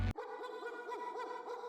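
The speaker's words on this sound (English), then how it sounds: "If your dog barks at inappropriate times and disturbs your normal life" A dog makes one sharp, loud yelp and then a wavering, whining cry that carries on up close for a moment without any talking.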